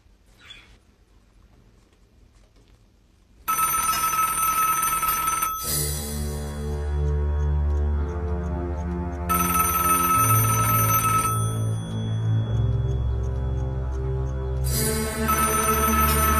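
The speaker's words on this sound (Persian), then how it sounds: "گوشی رو بر نمیداری؟" An indoor telephone rings in repeated loud electronic bursts at close range after a quiet opening, with a steady melodic tone pattern continuing to the end.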